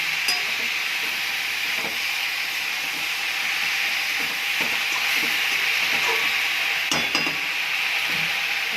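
Jute leaves and vegetables sautéing in a pan for a curry, a loud, steady hiss and crackle that fills the whole clip with faint spatula scrapes underneath and no talk.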